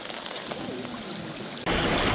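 Steady rushing of a flowing river in Kamikochi, Japan, continuous and close, growing louder and brighter near the end.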